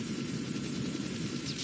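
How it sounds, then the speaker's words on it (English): A stealth helicopter in the Call of Duty: Mobile video game flies in, its steady rotor and engine drone holding at an even, moderately loud level throughout with no talk. "Friendly stealth chopper inbound."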